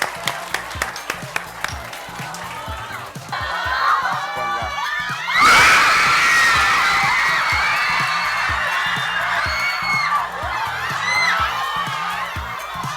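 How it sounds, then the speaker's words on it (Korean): Scattered claps open, then an audience at a live economics concert lecture bursts into loud cheering, shouts and applause that stays strong before easing, with excited voices throughout. "박수 주세요"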